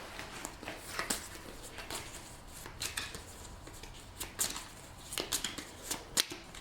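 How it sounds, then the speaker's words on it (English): Character draft cards for the board game Nemesis are shuffled by hand in quick bursts of papery riffling and tapping, loud and close, with brief pauses between bursts. "So let me take these and shuffle them."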